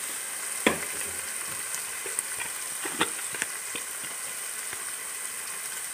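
Spices sizzling in hot oil in a pan, with a continuous frying hiss broken by scattered sharp clicks and scrapes of a utensil stirring, no voices.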